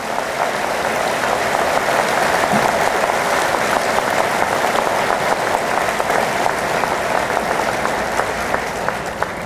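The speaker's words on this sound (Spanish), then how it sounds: "pido un voto de aplauso para aquellos que lo lograron" An audience at a professional engineering association ceremony claps warmly for several seconds, a continuous, fairly loud patter of many hands with no break.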